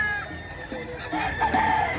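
Roosters crow at a Bocaue pet market's chicken stalls, one drawn-out call rising over a steady crowd murmur and nearby market bustle.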